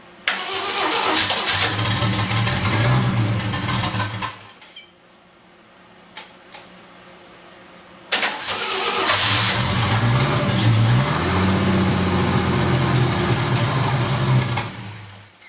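A carbureted car engine, fitted with a budget turbo setup, cranks and runs loudly, cuts out after about four seconds, then fires again and roars steadily for several more seconds before dropping off.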